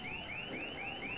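A car alarm in the zombie game Dead Island 2 wails in a repeating rising electronic sweep, several quick cycles, faint and distant with no talk over it.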